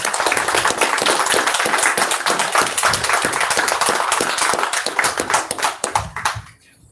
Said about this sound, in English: Everyone give a round of applause for Scott Horton, everyone.